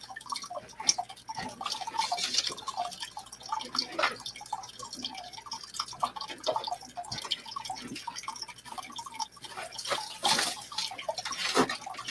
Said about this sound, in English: I'll add the last of my coffee water to the fish here